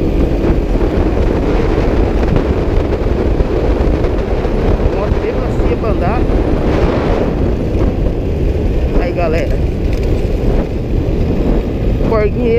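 A low-slung motorcycle accelerating along a narrow dirt track in the countryside, a loud, close engine roar with wind buffeting the microphone and rising revs partway through, with a rider's voice faintly mixed in.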